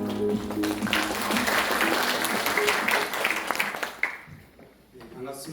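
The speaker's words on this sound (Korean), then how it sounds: "큰 박수로 맞이해 주시기 바랍니다." A ceremony audience at a centennial commemoration gives a museum director a welcoming round of applause, a full, dense clapping that swells for about four seconds and then fades as a voice begins speaking.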